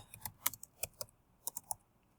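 Keys clatter on a computer keyboard in a quick, uneven burst of about eight crisp clicks, close and clear against a quiet room with no talking.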